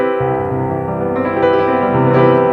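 A sustained piano major seventh chord rings out, full and warm, with a second chord struck partway through and held, in a ii-V-I progression.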